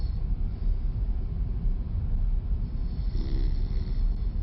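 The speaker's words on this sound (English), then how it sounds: "Oh, snoring." Low, rumbling snoring with a rough, droning texture, steady and fairly close, with a faint snort-like burst partway through.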